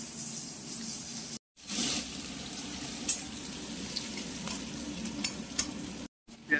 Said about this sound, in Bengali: পেঁয়াজ দিয়ে, কালো জিরে দিয়ে, শুকনো লঙ্কা দিয়ে উচ্ছে কুমড়ো ভাজা।